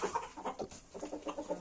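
Chickens clucking in a farm coop with new chicks, a rapid series of soft, close clucks with no talk.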